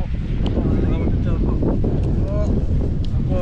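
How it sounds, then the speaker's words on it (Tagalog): Strong wind buffeting the microphone in a steady roar, with people talking and calling out over it outdoors. "Ang sarap ng hangin."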